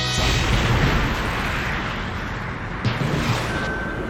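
Cannon blasts from the Guntank, a tank-like mobile suit in a Gundam anime, boom out in a dense, continuous barrage of heavy artillery-style explosions, loud and close with a sharp burst near the end.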